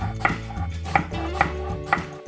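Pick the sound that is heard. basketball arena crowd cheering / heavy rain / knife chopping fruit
knife chopping fruit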